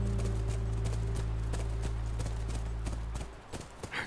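Horse hooves clopping in The Last of Us Remastered near a ranch, a steady run of close hoofbeats over a low rumbling game soundscape, then a sudden drop to quieter ambience near the end.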